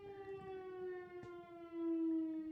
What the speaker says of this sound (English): Every day at noon, the siren goes out.